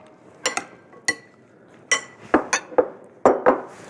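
A spoon clinks and scrapes against a bowl as a tomato crostini topping is tossed together. Sharp, irregular knocks come in quick bursts, close and fairly loud, with short quiet gaps between them.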